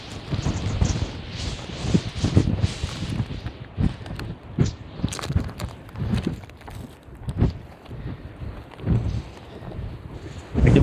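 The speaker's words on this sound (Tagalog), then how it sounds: "Medyo malakas yung hangin." Strong wind gusts buffet the microphone beside a river in Taiwan during shrimp netting, a rough, rumbling roar rising and falling in uneven bursts, loud and close with no voices.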